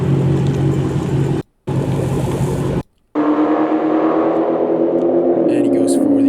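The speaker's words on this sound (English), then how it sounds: "And he goes for the quarter mile" A stock Dodge Hellcat on sticky tires makes a quarter-mile run, a loud, continuous engine roar that climbs in pitch as it accelerates, cut by two brief gaps, with a voice talking over it.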